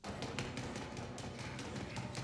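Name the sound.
urgent knocking at the front door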